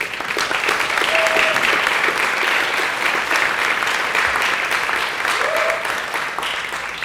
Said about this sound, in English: So let's give your parents a round of applause, please.